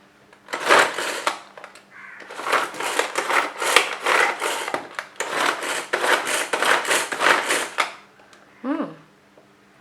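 A handheld pull-cord vegetable chopper works through capsicum in rapid bursts of choppy, rattling clatter, close and loud, with short pauses between pulls and a brief voice near the end.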